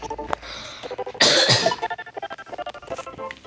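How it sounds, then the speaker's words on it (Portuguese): A burst of harsh coughing stands out near the middle, loud and close, against a busy background of beeps and music from Super Mario Bros.: The Lost Levels. "Tô tossindo, infelizmente,"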